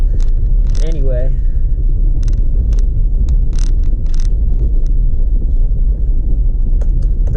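A car driving along a rough road, its steady low rumble and wind buffeting filling the whole stretch, with occasional clicks and a brief voice or tone in the background.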